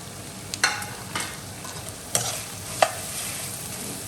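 A spoon scrapes and stirs through a curry in the pan after chili and coriander powder are added. A soft sizzle runs underneath, broken by a few distinct clinks and scrapes spaced across the stretch.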